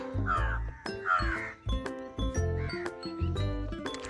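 Several crows caw around a flooded school compound on a rainy morning, harsh overlapping calls repeating in quick bursts, loud and close.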